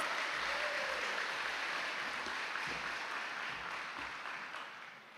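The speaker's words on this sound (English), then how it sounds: "Let's give him a round of applause." Steady, full applause from a high school ceremony audience fills the whole stretch, a dense wash of clapping that tapers slightly toward the end.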